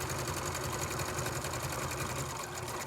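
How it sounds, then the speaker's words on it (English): Sewing machine running steadily at speed, stitching around a curve on a fitted fabric face mask, with a rapid, even mechanical whir and needle chatter, close and continuous throughout. "I'm stitching around the big curve."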